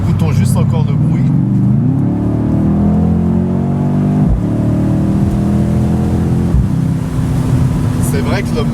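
The 4-litre biturbo V8 of a Mercedes C63 S AMG convertible revs and growls loudly and continuously, its pitch rising and falling through several throttle blips with a deep rumbling tone.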